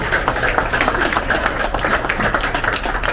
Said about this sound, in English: Let's get a nice round of applause once again.